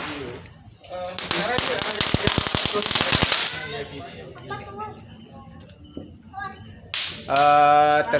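Firecrackers pop in a rapid crackling string at night during Eid al-Fitr eve celebrations, with a later burst, loud and nearby, amid insect chirping and people talking.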